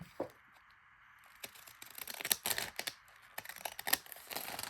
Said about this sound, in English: I'm using my ripple scissors so that it looks nice and rustic